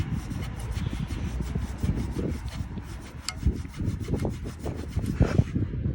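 A rusty motorcycle exhaust pipe is scrubbed with Harpic Power Plus, a close, repetitive rasping rub with uneven back-and-forth strokes and occasional knocks.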